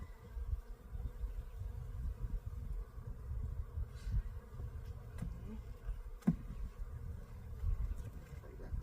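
Honeybees from a freshly unwrapped winterized hive make a steady, low, close buzzing hum that drones continuously, with a few faint knocks and rustles mixed in and no talk.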